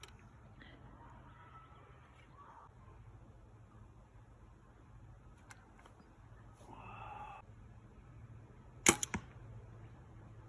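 A 700-grain arrow leaves a PSE Omen compound bow and strikes with a sharp, close snap near the end, preceded by quiet handling noises and faint background hum.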